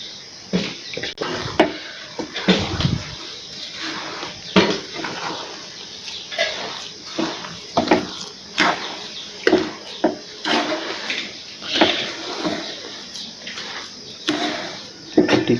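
Spoon scraping and clinking around a pan as sugar is stirred into kesari in a home kitchen, a continuous busy run of close, rhythmic metallic strokes and knocks with no talk.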